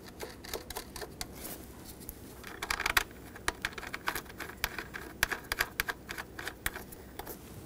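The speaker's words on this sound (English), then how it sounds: "Now let's put these mounting nuts on." Mounting nuts being placed by hand onto the intake manifold bracket studs of a 2008-2020 Dodge Grand Caravan 3.6L, heard as faint, close metallic clicks and small clinks in an irregular series over quiet background.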